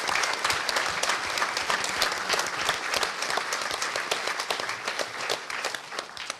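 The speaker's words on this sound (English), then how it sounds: "I think they deserve a good round of applause just for their generosity." Sustained applause from a conference audience at the Fifth HOPE hacker conference, with many hands clapping densely and steadily throughout before easing slightly at the end.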